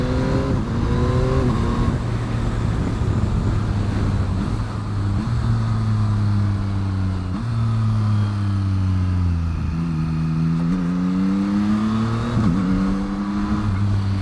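A Yamaha MT-09 motorcycle engine pulls hard and climbs through several quick-shifter upshifts, each marked by a brief dip and a clean step in pitch before it rises again, loud and close with no talk over it.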